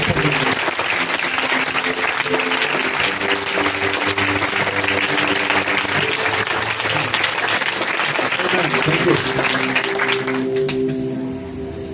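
Congregation at a Resurrection Sunday church service breaks into sustained, dense applause lasting the whole stretch, loud and steady with music or voices faintly underneath, tapering off at the very end.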